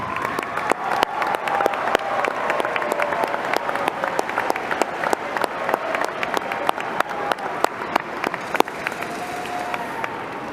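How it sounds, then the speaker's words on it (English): A graduation audience for a class of 2025 high school ceremony gives a sustained round of applause, dense steady clapping from a large crowd filling the hall for about ten seconds with no talking. "Please stand and give them a big, heartfelt round of applause."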